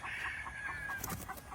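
A Claret gamecock rooster clucking close by in a quick rhythmic series of short clucks, moderately loud, with a faint steady whine running behind and no talk.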